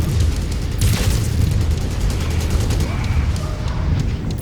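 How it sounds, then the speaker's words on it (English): Heavy, rumbling gunfire and booms in MechWarrior 5 as a hostile mech opens up with machine guns, a continuous loud barrage of overlapping impacts with a sharper crack near the start. "he's trying to shoot at me with machine guns now"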